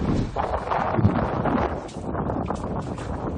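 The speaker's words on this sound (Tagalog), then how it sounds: "Nakaranas ng malakas na hangin at ulan sa Narvacan, Ilocos Sur." Strong typhoon wind roars and buffets the microphone with a steady, noisy rush in Narvacan, Ilocos Sur, Philippines, gusting throughout without voices.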